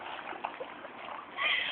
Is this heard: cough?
no